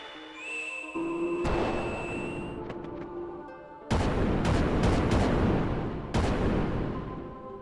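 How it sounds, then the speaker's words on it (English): Cannon blasts in the video game Chrono Cross boom out as three sudden, loud broadband explosions, each decaying over a second or two, preceded by rising synthetic tones and a metallic sting. "The cannon blasts did it!"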